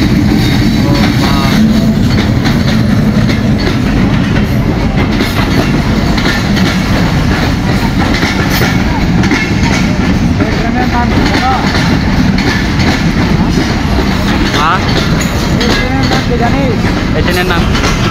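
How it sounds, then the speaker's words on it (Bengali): The Khulna Mail passenger train pulls into a railway station with a loud, continuous rumble and rattling wheels that fill the whole stretch, with voices faintly audible beneath. "আমি আছি রেল স্টেশনে, আর ইতিমধ্যে একটা ট্রেন চলে আসছে"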